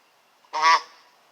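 A single loud, nasal goose honk rings out after a quiet moment, lasting under half a second before fading.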